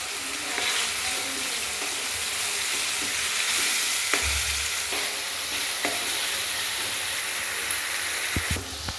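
Ginger garlic paste sizzles and fries in a hot pan for an egg curry masala, with a steady loud hiss and occasional stirring scrapes and knocks close by.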